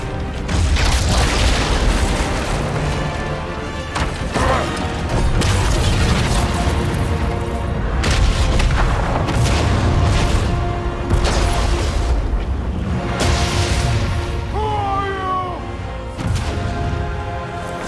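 Bomb blast in God of War Ragnarök during a Kratos versus Thor fight: dense, loud rumbling booms and crashes roll on throughout, with mechanical clanks and a whooshing sweep near the end amid continuous game noise.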